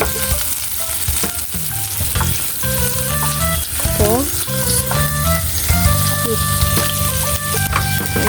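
Vegetables fry in a home pan with a loud, dense, continuous sizzle and occasional stirring, while faint tonal background sounds sit underneath.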